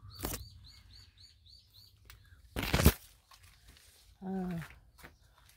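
Small birds in a leafy front yard garden with a jujube tree, a quick run of bright repeated chirps early on, then scattered calls between bursts of nearby rustling, while a person talks.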